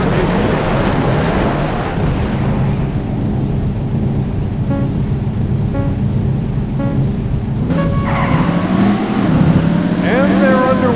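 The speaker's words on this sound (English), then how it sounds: "Gentlemen, start your engine." Race car engines drone and rev together at the start of a Daytona USA race on the Dinosaur Canyon course, a dense loud roar with rising whines and a few short beeps near the end.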